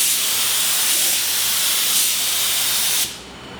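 Steady loud hiss of air spraying from an HVLP spray gun nozzle, close by, cutting off abruptly near the end.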